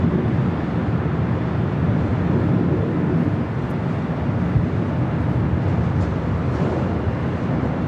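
A Boeing 747 'Queen' airliner takes off from the south side of LAX, giving a steady, broad jet roar at a distance that holds constant throughout with no voices.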